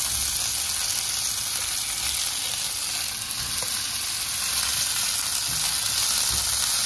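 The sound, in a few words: ammini kozhukattai frying with mustard seeds and curry leaves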